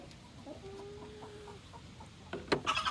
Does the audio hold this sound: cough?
no